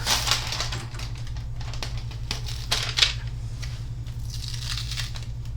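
Iron-on mosaic vinyl dots being peeled off material, giving close, crackly ticking and crinkling sounds over a steady low hum.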